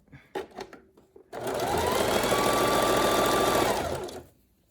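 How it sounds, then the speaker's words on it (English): A sewing machine runs a zigzag seam down the center of folded fabric, a steady fast mechanical whir lasting about three seconds after a few brief clicks and taps of setup, then winding down. "I'm just going to fold it in half and seam down the center. On zigzag."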